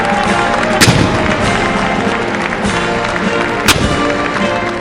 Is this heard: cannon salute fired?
yes